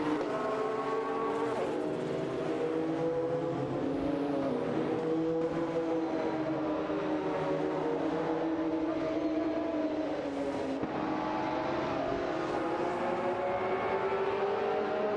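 McLaren F1 and Porsche 911 GT1 race cars in a racing video game roar continuously at high revs, with engine pitch climbing and shifting as they race, loud and without pause.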